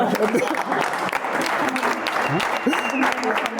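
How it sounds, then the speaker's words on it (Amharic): Steady applause from a studio audience at a quiz game fills the whole stretch, dense and continuous, with a few voices murmuring underneath. "አጨብጭቡላት።"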